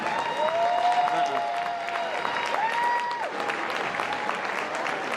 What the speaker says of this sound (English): let's have a final round of applause for all of our class of 2025.